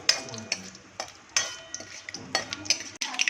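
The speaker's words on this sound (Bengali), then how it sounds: "আর একটুখানি আমি নিম ফোড়ন দেবো নাড়তে থাকবো" A spoon stirs nigella seeds, mustard seeds and curry leaves tempering in hot ghee in a pan, giving soft sizzling with several scraping strokes at an uneven rhythm, close by and with no voices.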